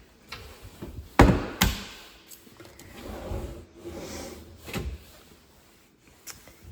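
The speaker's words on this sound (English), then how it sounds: "my island also has cabinets and drawers. They have that soft close" Soft-close kitchen island drawers and cabinet doors in an empty apartment are opened and closed, giving a few distinct nearby thumps and bumps with a sharper knock early on and softer sliding clunks after.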